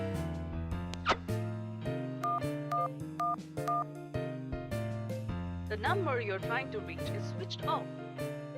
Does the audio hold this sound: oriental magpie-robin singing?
no